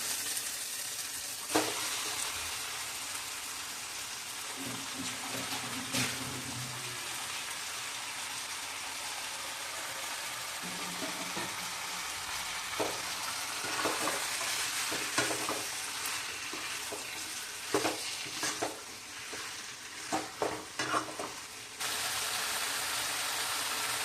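Chicken frying with softened onion, crushed ginger and garlic in a pan for ghee rice, a continuous crackling sizzle with periodic stirring scrapes that grow busier toward the end.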